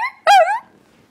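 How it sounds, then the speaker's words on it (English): A dog lets out a single short, sharp bark close by, with nothing else heard around it. "Are you gonna bark again?"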